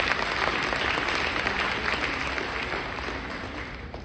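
A seated audience claps steadily, a dense, even wash of applause that holds at a moderate level and then eases slightly toward the end, with no voices over it.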